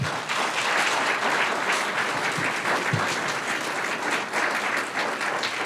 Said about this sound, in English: If we could have one more round of applause for Troop 63.